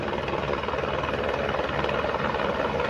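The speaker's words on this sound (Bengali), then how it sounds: "এই হেলিকপ্টার আসছে ভারমোর থেকে।" A helicopter arriving from Bharmour at the Gaurikund helipad gives a close, loud rotor and engine roar, steady and throbbing from start to finish.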